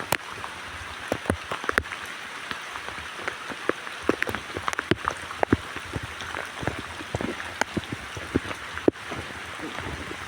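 Heavy rain falls steadily, a dense constant hiss with many close drops pattering and splashing on surfaces throughout.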